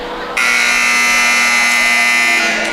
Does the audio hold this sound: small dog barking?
no